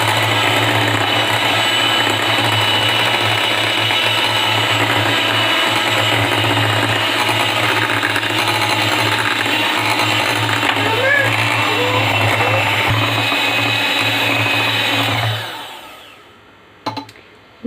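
Butter cake batter being mixed by an electric mixer, a steady loud whirring drone running continuously before winding down and stopping near the end.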